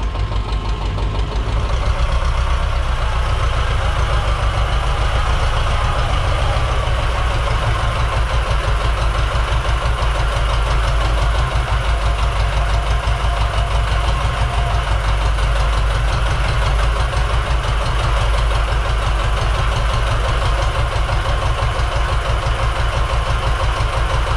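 A diesel engine on a T-25 tractor idles steadily and loudly for the whole stretch, with a deep rhythmic knocking chug and no talking, in a workshop.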